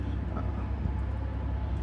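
A Class 66 diesel locomotive rolls past on a service toward Blackpool North, a steady, heavy low rumble of engine and wheels filling the whole stretch without any talk.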